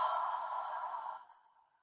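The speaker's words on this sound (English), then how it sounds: "and breathing out through your mouth." A single long, airy exhale through the mouth during a yoga session, close and soft, holding steady before fading away into silence.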